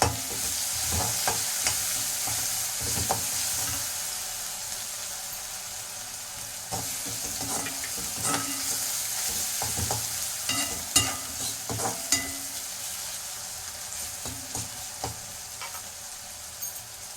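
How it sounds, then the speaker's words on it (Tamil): Onions sauté with a little salt in a pan, a continuous sizzle broken by repeated scraping and stirring clatters of a utensil, close and fairly loud with no voices. "வெங்காயம் வதங்கிறதுக்கு கொஞ்சமாக உப்பு போட்டுக்கோங்க."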